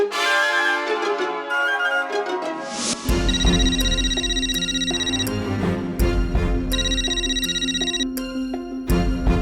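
A telephone ringtone plays while a call is being placed, a bright melodic electronic tune that shifts into repeated chiming notes over a busy background, with no voices heard.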